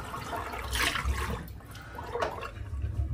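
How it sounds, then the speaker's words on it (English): A small amount of water gurgles and splashes down a bathroom sink drain during a head shave, a short, close, slightly uneven wash of liquid with no talking. "It's not a whole shit ton of water that I'm pouring down the drain here"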